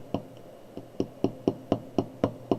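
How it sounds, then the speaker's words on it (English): A small hammer taps a pin into a metal watch strap link: about nine light, sharp metallic taps at a steady rhythm, close and clear, with no talking. "you can tap it with your hammer just to make sure it's started nicely"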